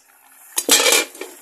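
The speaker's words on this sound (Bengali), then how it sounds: "এবারে ঢাকনা দিয়ে ঢেকে দেবো ভাতটা" A metal lid settles onto a pot of cooking rice with a quick, close clatter and rattle, then a faint final clink.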